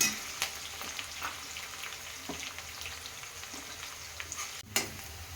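Ginger garlic paste sizzling in a hot pan while cooking keema stuffing for capsicum: a close, steady crackle with scattered sharp pops and stirring, no voices.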